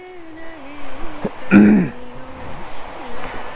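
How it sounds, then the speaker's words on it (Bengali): A single short cough from an itchy, irritated throat sounds close by, with a person speaking softly before and after it, in Darjeeling. "একটু ঠান্ডা গরমে কাশি কাশি গলা খুশখুশ করছে, এই দেখুন।"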